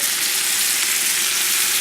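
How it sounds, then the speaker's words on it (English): Chicken stock poured into a hot pan sizzles loudly and continuously, a bright, even frying hiss that holds steady throughout, with no voices. "Put the chicken stock in there."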